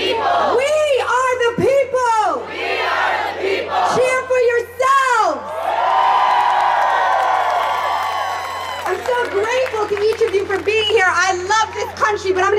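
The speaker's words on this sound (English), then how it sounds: "Cheer for yourselves." A crowd at a Protect Families rally in Brooklyn cheers and yells loudly for several seconds between stretches of amplified speech, with a sustained roar rising in the middle.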